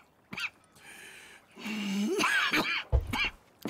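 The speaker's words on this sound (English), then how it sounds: "That's quite a cough." A character in the video game Red Dead Redemption 2 who is sick with tuberculosis coughs and clears his throat in a few rough, raspy bursts, fairly quiet and close.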